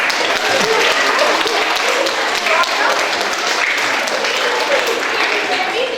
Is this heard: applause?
yes